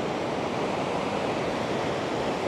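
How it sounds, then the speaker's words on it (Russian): Large stream of water rushing past in a mountain village in Tajikistan, a loud, dense, steady roar with no breaks, heard close up. "Ну, здесь большой поток воды."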